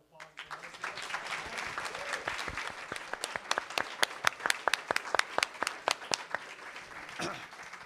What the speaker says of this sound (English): Let's have a big hand of applause for Melissa.